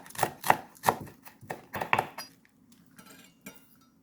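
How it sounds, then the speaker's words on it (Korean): A knife chops green onion diagonally on a cutting board with several crisp, close taps in an uneven rhythm that thin out and stop, with no talk. "파는 이렇게 어슷어슷 송송 썰어줍니다"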